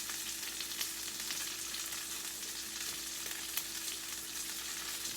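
A burger patty fries in a pan, letting off a constant close sizzle with small crackling pops and a faint steady hum, no voices over it.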